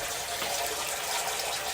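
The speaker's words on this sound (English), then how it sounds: "So apparently a water main broke around us" Water rushes from a broken water main in a low-lying residential area, a steady, full hiss of gushing flow filling the whole moment without pause.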